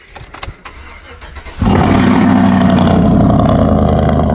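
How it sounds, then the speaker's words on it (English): A diesel pickup truck on a chilly morning cranks briefly, then catches and settles into a loud, steady, rumbling idle close by. "Gonna give her the old crank up."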